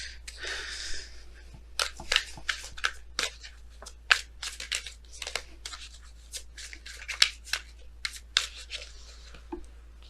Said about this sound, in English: Let's go ahead and pull your romance angels cards for today,